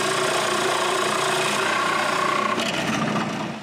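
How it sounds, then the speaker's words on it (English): A power drill bores hinge holes into solid pine pantry door panels, a loud continuous whirring grind that holds steady and then winds down near the end. "Next, I can drill the holes for the hinges."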